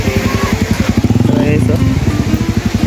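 Motorcycle engine idling close by with a fast, steady, pulsing putter, heard under a person talking.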